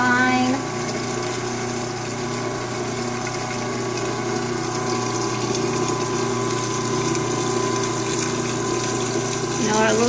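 Steady mechanical whir of a mixer with liquid sloshing as oil is poured into a lotion mixture that is starting to solidify as it cools, continuous and close throughout.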